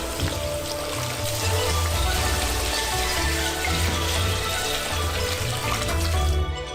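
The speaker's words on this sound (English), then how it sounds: "Fill the pot with water." Tap water runs steadily into a pot already holding chopped green onions and dried shiitake mushrooms for ramen broth, a continuous splashing pour that stays close and fairly loud.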